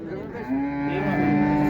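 A cow with a calf at a livestock market in Boysun, Surxondaryo, gives a single close, drawn-out moo that rises in pitch, with no talk.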